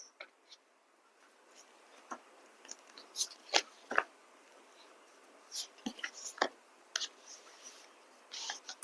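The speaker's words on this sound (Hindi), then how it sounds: "आपके लिए निकालते हैं कार्ड्स" Tarot cards are drawn and handled at close range, with faint scattered clicks, light snaps and soft sliding rustles at an uneven pace in a quiet room.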